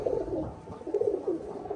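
Racing pigeons cooing inside a loft, soft repeated low coos close by over a quiet background.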